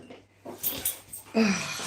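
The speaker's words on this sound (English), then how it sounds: "That was the dog." A dog whimpers with a few soft, breathy whines, then a louder, tonal whine near the end. It is fairly close and there is no clear talk.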